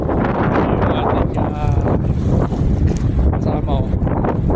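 Loud, constant rushing water and wind buffeting fill the air on a moving fishing boat, with occasional voices faintly underneath.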